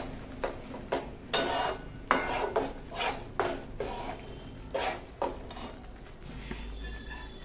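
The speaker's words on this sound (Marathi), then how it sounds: "मस्तपैकी आता ह्या तुपामध्ये कणिक भाजून घेते छान" Wheat flour roasting in ghee in a pan for kada prasad, with a series of scraping strokes and metal clinks from stirring, irregular and close, each followed by a faint hiss.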